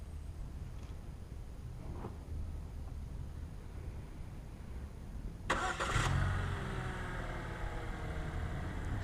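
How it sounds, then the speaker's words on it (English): A 2016 Buick Cascada convertible's engine cranks and catches after a remote start, then settles into a steady idle following a quiet stretch with faint clicks. "This also does have remote start"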